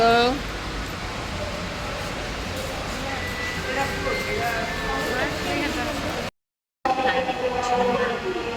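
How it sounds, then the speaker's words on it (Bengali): Dhaka metro rail electric train arriving from Uttara, a steady rumble with a rising tonal whine filling the station, continuous and fairly loud, broken by a brief dropout near the end. "উত্তরা থেকে আরেকটি মেট্রো ট্রেন আসলো"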